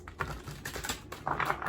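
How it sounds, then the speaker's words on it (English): Slippery tarot cards are shuffled close by, a quick irregular run of soft riffling clicks and flicks that comes in several bursts. "They're very slippery to shuffle."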